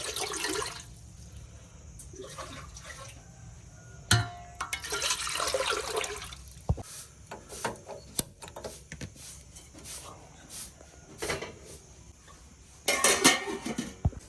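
Pots and utensils clatter and clink in scattered bursts, some loud and sharp, with running water and kitchen handling noises between them, as water is set to heat for vermicelli on a gas stove.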